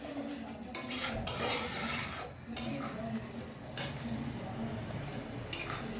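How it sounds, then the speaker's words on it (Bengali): Spice paste stirred and sautéed in a pan, a spoon scraping and rasping steadily against the metal, close and fairly loud, with brief pauses between strokes. "এবারে ভালো করে মশলাটাকে কষাতে হবে।"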